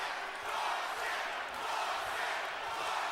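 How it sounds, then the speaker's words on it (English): A boxing arena crowd at a Chad Dawson versus Glen Johnson rematch chants in a steady, rhythmic roar, distant and fairly faint, filling the whole span without a break. "Crowd chanting, Dawson,"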